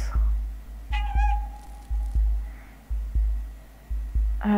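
A cat character in the video game Stray meows once, a clear mid-length call over steady low game ambience and periodic soft thumps, with a faint second cry at the very end.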